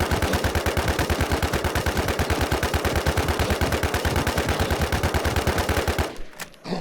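Rapid, rhythmic automatic machine-gun fire from the WarZ Siam MMO video game rattles loud and close for about six seconds in an unbroken burst, then cuts off abruptly into quieter game sound.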